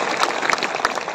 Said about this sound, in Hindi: इनके लिए जोर से ताली बजाइए सभी लोग